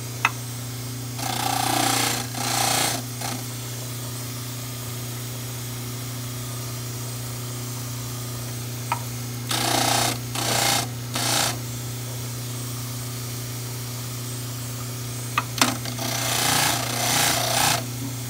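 A handheld power tool trims excess material from a llama model in short bursts of buzzing grind, returning after long pauses over a steady low hum.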